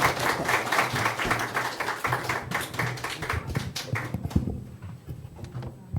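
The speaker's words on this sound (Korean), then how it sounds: "그런 의미로 박수 한번 크게 하겠습니다" A church congregation applauds a visiting pastor during a Sunday worship service, with brisk, dense clapping that holds steady for several seconds, then thins to a few scattered claps and fades out.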